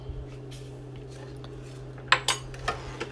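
Coffee and sugar stirred together in a bowl for keto dalgona coffee, a few sharp utensil clinks and scrapes against the bowl over a steady low hum, no talking.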